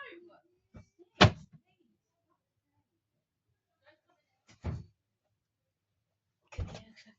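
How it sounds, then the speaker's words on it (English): A household door thuds shut in a quiet room, with a few separate knocks and bangs spread out over several seconds, set between short bits of talk. "can you close the door?"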